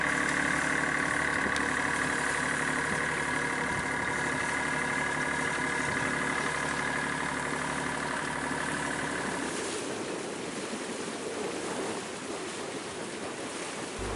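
A sailboat's engine motors out of Lamlash Bay with a steady low drone and droning tonal hum, joined by water rushing along the hull; the engine tone drops away near the end, leaving the wash of water.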